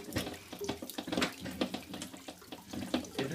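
Apple juice from a blend of about four apple varieties trickles and splashes out of a cider press as it is wound down, with irregular close drips and small clatters.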